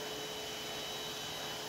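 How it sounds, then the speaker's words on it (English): A Henry vacuum cleaner runs over a hallway runner mat with a steady, even broadband drone, fairly quiet and unbroken, with no talking. "I'm vacuuming the hallway runner mat and also under it."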